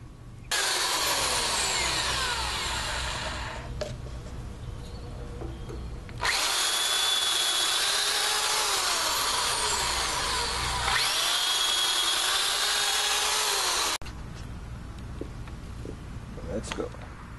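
A power drill fitted with a 1/2 inch Milwaukee titanium bit bores through metal in long, loud, close bursts, the high grinding whine rising and falling in pitch across three runs separated by short pauses.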